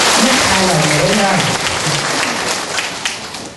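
A loud burst of audience clapping at a talk fills the room with dense, sustained applause that gradually thins out over a few seconds, with a voice briefly sounding beneath it at the start.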